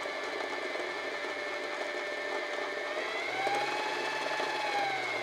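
Empisal Expression 889 sewing machine winding a bobbin, a quiet steady whirring motor hum that rises slightly in pitch and loudness partway through, alone without speech.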